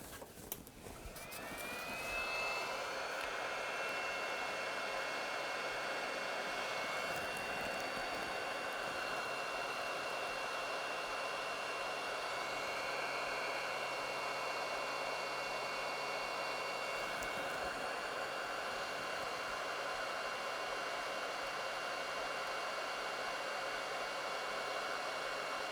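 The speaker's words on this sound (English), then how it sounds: "A little bit of hot air." A hot air rework blower heats a newly placed chip on a circuit board, giving a steady, even hiss of rushing air that holds constant and close for the whole stretch, with no voices.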